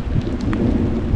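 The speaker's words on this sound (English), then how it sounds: "Look right over the top of me is this storm." Thunderstorm overhead with thunder and rain: loud, dense low rumble and steady rain wash, close and continuous for the whole brief stretch, with no talking.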